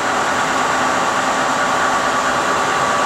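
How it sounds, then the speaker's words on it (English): A 20.5 by 60 inch Hwacheon geared head engine lathe running at 765 RPM, giving a loud, steady mechanical whir with a constant tonal hum, with no talk over it. "This is the Hwacheon lathe at 765 RPM."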